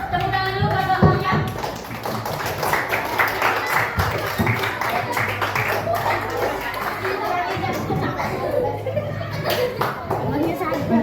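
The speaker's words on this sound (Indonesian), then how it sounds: "tepuk tangan dulu buat bangaunya" Schoolchildren in a fifth-grade classroom clap for a classmate, a dense patter of many small hands mixed with children's chatter and voices throughout, steady and close.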